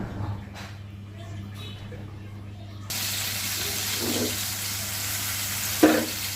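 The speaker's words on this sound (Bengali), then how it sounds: "এই যে টমেটোগুলো একটু ভাজবো হালকা, কেননা এটা ভর্তা বানাবো।" Tomatoes hit hot oil in a pan, lightly fried for a tomato-chili bhorta: a faint hum gives way to a sudden, steady broadband sizzle that holds to the end, with a brief clatter near the close.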